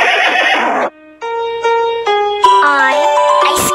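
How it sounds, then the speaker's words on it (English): A horse neighs in a loud, stylized whinny with a bright wavering pitch, starting after a short burst of other sound and a brief gap, then rising and trembling to the end. "H, O, R, S, E, horse."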